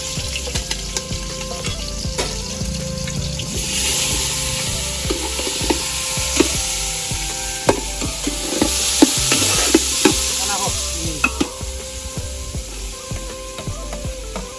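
Hot oil for tempering noodles sizzles steadily for several seconds, with clinks of stirring and a short surge of frying when ingredients are added.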